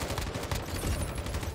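Rapid hip-fire gunshots in a video game, a dense burst of loud overlapping shots filling the whole moment with no pauses.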